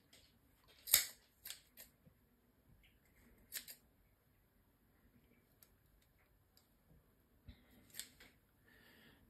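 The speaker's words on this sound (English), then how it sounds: "we want to get our scissors and cut through them" Scissors snip through folded loops of yarn while a pom-pom-style Christmas gonk beard is trimmed, giving a few sharp, close cuts spaced out among quieter handling sounds.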